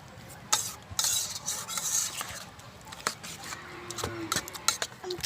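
Raw mango mixed by hand with mustard paste and green chilli, giving soft wet squelches and rubbing with scattered sharp clicks of a utensil against a bowl, close and quiet, with a voice speaking briefly in the background.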